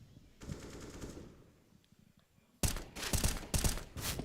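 Counter-Strike match gunfire at a professional tournament: faint distant shots early on give way to loud, close automatic bursts in quick repeated volleys.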